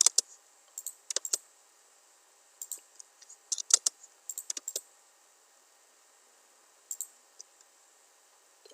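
Keys on a computer keyboard are tapped in short bursts while entering duct sizes in an AutoCAD HVAC drawing, crisp close clicks separated by quiet pauses with no talking.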